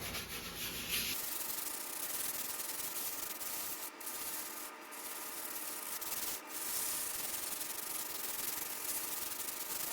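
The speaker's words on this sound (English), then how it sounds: "I use 120 grit sandpaper to sand all the rust off" Steady, continuous rasping of 120 grit sandpaper scrubbing rust off a vintage handsaw blade, close and loud, running almost unbroken with a few brief pauses, no talking.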